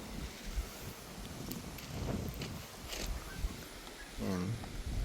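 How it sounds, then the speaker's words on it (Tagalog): Strong wind at a campsite gusting and buffeting the microphone, rising and falling in uneven surges, with a brief voiced sound near the end. "medyo malakas yung hangin ngayon dito."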